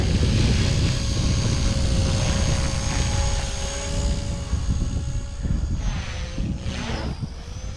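A Blade Fusion 180 RC helicopter flies outdoors in a fair wind, its rotor and motor giving a steady close whine with a faint pitch sweep that slowly fades near the end.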